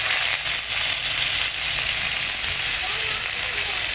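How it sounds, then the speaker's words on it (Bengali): Chopped onion and dried red chilli fry in a little oil in a pan, giving a steady, close sizzle that runs evenly throughout with no voices. "এখন আমি দিয়ে দেবো পেঁয়াজ কুচি,"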